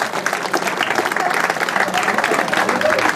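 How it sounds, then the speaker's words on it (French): An audience applauds at the awards ceremony of a 2016 trail race in Lissac, steady dense clapping from a crowd that continues throughout with faint voices mixed in. "maintenant je vous demande des applaudissements pour ces trois personnes"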